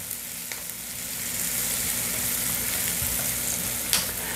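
Garlic and onion sizzle steadily in hot oil in a pan while rice is being cooked, a continuous bright crackling hiss with a few sharper pops, close and without talk.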